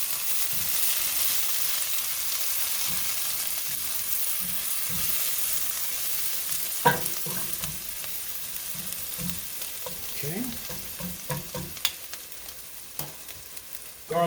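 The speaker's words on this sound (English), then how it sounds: "I have minced garlic here going in. I'm going to stir that around for about a minute." Minced garlic sizzles in butter in a pan for chicken Marsala, a steady crackling hiss that continues throughout; partway through, a spoon begins stirring with scattered clanks and scrapes.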